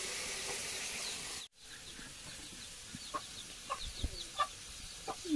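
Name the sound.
chicken clucking as it comes into the house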